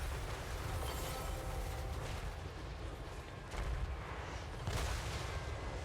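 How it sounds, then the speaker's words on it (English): Mortars fire in a Total War Warhammer 3 battle, a steady roll of heavy booms and blasts with sharper impacts near the end, continuous and loud with no talk. "Jesus, the mortars."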